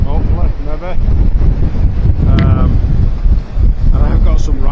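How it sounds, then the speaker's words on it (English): Waves crash on a winter shore at Fleetwood in strong wind, with heavy continuous buffeting roar and surf surging close by, as someone speaks over the noise. "I've got some right waves crashing in front of me"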